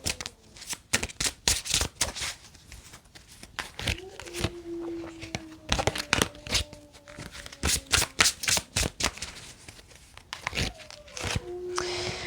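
Oracle cards being shuffled by hand in a card-reading session, giving a rapid run of crisp riffling and slapping bursts close to the mic, with a faint background voice or tone partway through.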